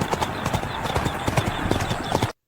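Unruly racehorses with jockeys in an 1800s race setting, hooves clip-clopping in a quick, irregular stream of hard strikes, loud and close, cutting off abruptly at the end.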